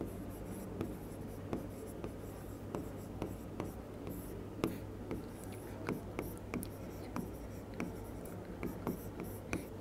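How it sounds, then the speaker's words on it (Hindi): Writing on a board during a biology lesson on Mendel's laws makes rapid, rhythmic scratchy strokes, quiet and close, over a low steady hum. "इसी की साइड में लिख देते हैं"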